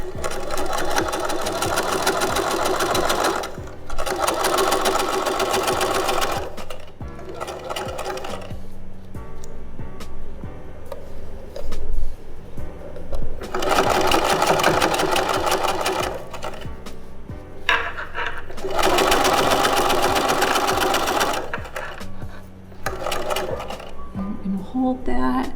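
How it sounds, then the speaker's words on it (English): A home sewing machine stitches a seam on a square fabric bag, running in several sustained bursts with pauses between them, loud and close, with an occasional short backstitch. "I'm going to back stitch a couple stitches."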